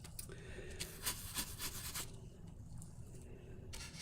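Globs of wax being rubbed onto a piece of thrifted wood furniture, with a steady close scraping, rubbing texture in short strokes throughout, fairly quiet.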